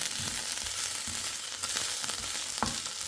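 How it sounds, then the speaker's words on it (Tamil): Onion flowers sautéing in a pan for a Jaffna-style fry, a continuous close sizzle broken by a few soft scrapes and taps of stirring. "இப்போ கொஞ்சம் வதங்கிட்டு வந்துட்டு இன்னும் கொஞ்சம் இருக்கு, நல்லா வதங்கும்"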